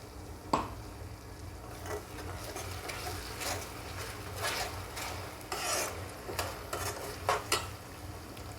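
Tomato puree goes into an oily frying gravy for egg dum biryani and is stirred, producing a quiet, steady sizzle broken by repeated scraping strokes of a spoon against the pan.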